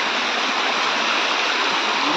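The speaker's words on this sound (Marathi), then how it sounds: "हा छोटासा धबधबा आहे, एवढा मोठा नाही" A small forest waterfall running low on water sends up a steady, close rushing splash, an unbroken broadband roar that holds level with no pauses.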